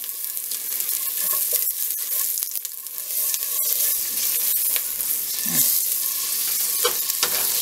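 Broccoli sizzles with a tablespoon of butter in a hot pan, a steady close frying hiss with small stirring knocks and scrapes throughout, no voices.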